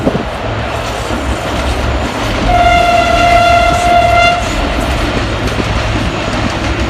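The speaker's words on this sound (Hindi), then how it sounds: "ये देखें रेल यहाँ से नीचे से कैसा क्रॉस कर रहा है इस पुल को" A train passes beneath a road bridge on the Malir Expressway, a loud continuous rumble with clattering wheels, and a long horn blast sounds midway before the noise settles back to the rolling drone.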